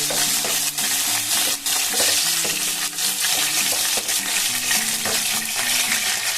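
Whole cloves, cardamom, cinnamon and three bay leaves fry in hot oil for a mayonnaise chicken curry, giving a steady close hiss with scattered sharp pops and utensil clicks from stirring, plus a faint low tonal hum underneath and no talking.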